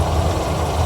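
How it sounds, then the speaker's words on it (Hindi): A tractor in a rice field during the paddy harvest runs its engine while reversing, giving a steady, heavy, low idling rumble at moderate distance with no speech. "ये ट्रैक्टर हो रहा है रिवर्स"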